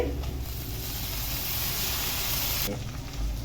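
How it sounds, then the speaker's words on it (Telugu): Tomato pieces drop into onions frying in oil for a quick poha upma, raising a steady, close sizzling hiss that swells briefly near the end, with no talk. "ఇప్పుడైతే టమాటా ముక్కలు వేసుకోవాలి"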